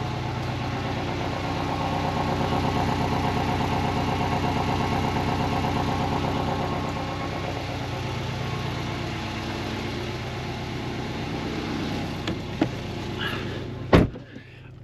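A Porsche 718 Cayman GTS with a 2.5-litre 365 hp engine idles, heard from the rear of the car, a steady low droning rumble with a couple of sharp clicks near the end.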